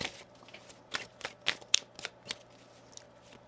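A deck of tarot cards being shuffled by hand, quiet and close, in a series of soft riffling bursts and slaps spaced irregularly, with no talking.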